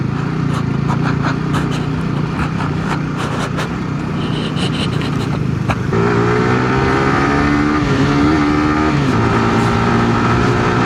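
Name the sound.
motorcycle engine riding, radiator noise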